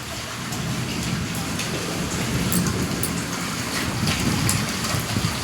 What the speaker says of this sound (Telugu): భలే ఉంది, చల్ల చల్లగా వర్షం పడుతుంది.